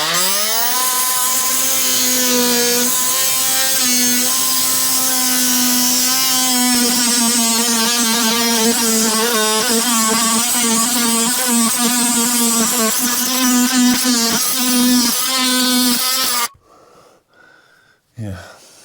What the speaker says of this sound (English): your multi-tool, the noisiest tool on planet Earth